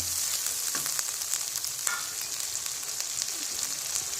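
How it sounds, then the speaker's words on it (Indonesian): Eggs frying in hot oil with chili seasoning for Indonesian telur balado, a steady close sizzle and crackle with small pops throughout, no voices. "Goreng sampai terlihat matang"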